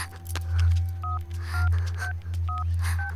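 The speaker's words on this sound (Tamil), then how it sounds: "இப்போ ஃபோன் பண்ணா ஃபோன் சுவிட்ச் ஆஃப்ல இருக்கு." Telephone keypad dialing tones, a few distinct two-tone beeps spaced apart over a steady low hum, with a brief voice in the background.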